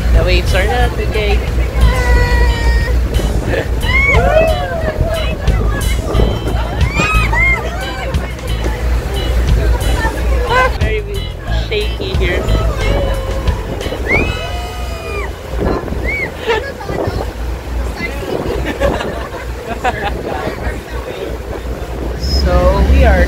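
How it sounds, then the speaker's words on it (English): Wind buffets the microphone as rough sea waves wash and a boat engine drones throughout on a Comino boat trip off Malta, with people talking and shouting over the noise. "The waves are not okay."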